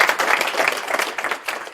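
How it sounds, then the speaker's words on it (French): Applause from a crowd at a political conference, a steady wash of clapping hands at moderate volume, lasting a couple of seconds with no talking. "il faut l'applaudir quand même"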